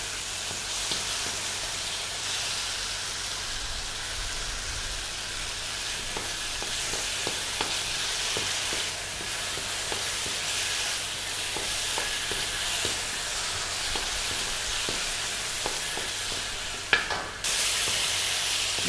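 Ginger garlic paste frying in a pan for Malaysian fish head curry, a continuous close sizzle and hiss with occasional stirring clicks and a brief clatter near the end, no talking.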